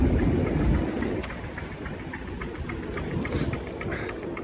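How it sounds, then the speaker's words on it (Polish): A low rumble rolls steadily past with faint rhythmic clacks, like a train going by at a moderate distance in Wrocław. "O, jedzie właśnie pociąg, tak jak mówiłem"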